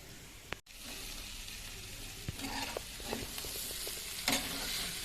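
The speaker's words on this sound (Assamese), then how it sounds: "এতিয়া অলপ সময় এনেকৈ থৈ দিওঁ, ভাজা যাওক, আদা নহৰু কেঁচা গোন্ধটো নাইকিয়া হৈ যাওক।" Chicken pieces with ginger and garlic sizzle in a pan for a sesame chicken dish, while a spatula stirs and scrapes in several short strokes over the steady frying hiss, close by and without voices.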